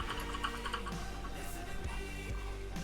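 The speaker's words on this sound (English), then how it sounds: "You'll be able to hear my god-awful mechanical keyboard" Keys clatter on a mechanical computer keyboard in a desktop trading setup, a run of quick close taps over a steady hum.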